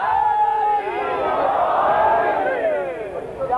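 Large audience at a religious gathering chanting slogans in unison, a loud sustained roar of many voices rising and falling together close by.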